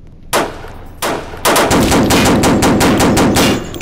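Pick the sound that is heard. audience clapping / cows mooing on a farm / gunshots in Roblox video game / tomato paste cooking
gunshots in Roblox video game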